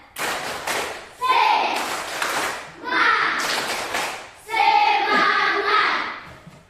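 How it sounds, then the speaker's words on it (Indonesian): A school class claps out a rhythmic spirit clap in loud bursts, with children's voices chanting along between the bursts of clapping. "Kita tepuk semangat"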